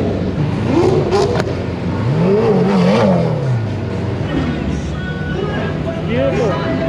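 A McLaren P1 from Savage Garage accelerates away with rising and falling engine sweeps and revving bursts, fairly loud and close, with excited voices mixed in.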